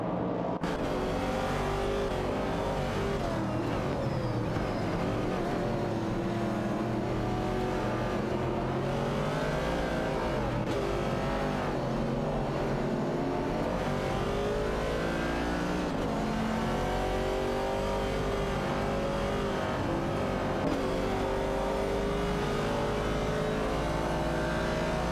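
Race cars in an AI racing video game, several engines whining and revving together in overlapping, shifting tones, a continuous dense roar close up with no talking.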